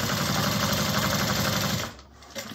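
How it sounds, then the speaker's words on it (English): A sewing machine stitching a row of stitches within the seam allowance on a satchel, a rapid, even mechanical whir with fast repeating clatter that runs steadily for about two seconds before stopping, close and fairly loud. "I'm just going to run another row of stitches."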